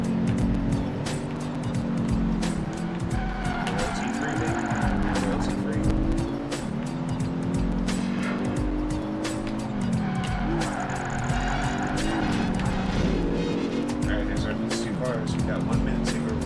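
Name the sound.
cars racing and tire squeal in a video game car chase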